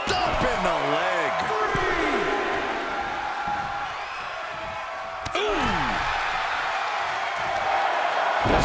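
A loud, roaring crowd cheers throughout in the wrestling video game WWE 2K22, with a sharp slam cutting through near the middle as the roar continues.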